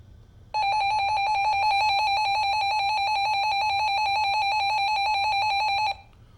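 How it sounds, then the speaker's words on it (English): A weather radio alarm sounds a single loud, steady electronic warning tone that holds unbroken for about five seconds before cutting off abruptly, with no one talking over it. "the weather radio will then actually sound like this"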